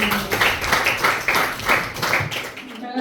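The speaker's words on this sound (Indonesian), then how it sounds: "Beri tepuk tangan sekali lagi." Classroom applause from students during an art lesson, a loose run of claps for a classmate lasting a few seconds under background chatter before fading out.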